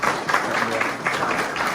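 Applause from a church congregation, a short steady wash of many hands clapping together, fairly close and even throughout.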